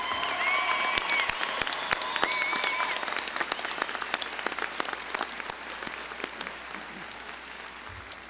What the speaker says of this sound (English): Graduates, would you please give them a round of applause for their support?